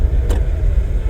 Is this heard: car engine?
yes